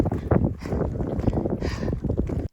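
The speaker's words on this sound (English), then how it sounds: "It's windy as hell" Wind roars and buffets the microphone in strong gusts at a mountain camp spot on the Pacific Crest Trail, a rough, blustery rush filling the short stretch.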